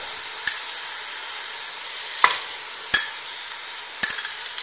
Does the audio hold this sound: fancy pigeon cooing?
no